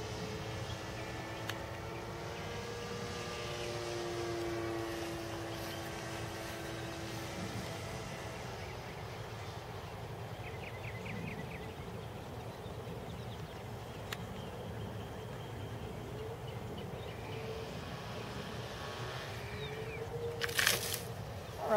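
A small RC model airplane flies in to land, its electric motor whining steadily at a distance, with pitch shifting as it approaches over outdoor background noise.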